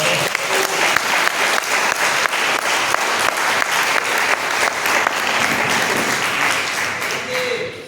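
Loud, continuous applause from a church congregation gathered in a home prayer meeting, dense clapping held steady throughout with a faint voice or two mixed in.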